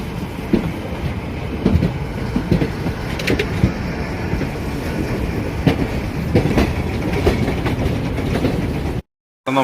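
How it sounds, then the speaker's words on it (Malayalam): Passenger train rolling along rails on the run from Ernakulam to Velankanni past Tiruchirappalli, a steady close rumble with rhythmic wheel clatter and occasional squeals throughout, no talk. "അപ്പോൾ ആ ട്രെയിനെ കടത്തി വെട്ടിക്കൊണ്ട് നമ്മൾ പോയിക്കൊണ്ടിരിക്കുന്നുണ്ട"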